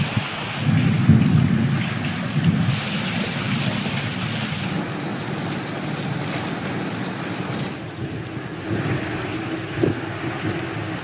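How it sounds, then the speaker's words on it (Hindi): A thunderstorm with rain over Lahore in Punjab: steady rain hiss fills the air while low thunder rolls and rumbles throughout, loud and continuous, with no one speaking. "और लाहौर समेत पंजाब के कई शहरों में बारिश, गर्मी का जोर टूट गया"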